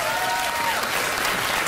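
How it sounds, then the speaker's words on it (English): Studio audience applause on a late-night talk show, dense and continuous clapping throughout. "Why did they applaud?"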